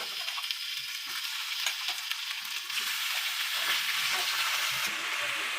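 Chicken pieces and onions sizzling and frying in a pan, a steady loud crackle with occasional stirring, no voices.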